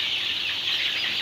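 Chickens of the Fayoumi breed cluck and chirp steadily while being fed small pieces of food, a continuous close-up flock chatter with no voices over it.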